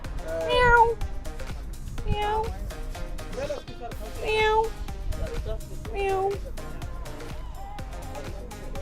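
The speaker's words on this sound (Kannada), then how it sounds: "ಇಲ್ಲಿ ನೋಡಿ, ಬೆಕ್ಕು ನೋಡಿ" A cat meows near a roadside burger and tea shop, giving several drawn-out, fairly close calls spaced a couple of seconds apart, with people talking nearby.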